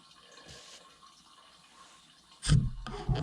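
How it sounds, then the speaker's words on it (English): Gasoline drains from a vehicle gas tank, quiet at first, then a sudden gush of liquid splashing and pouring near the end, loud and close. "I'm gonna keep draining this gas"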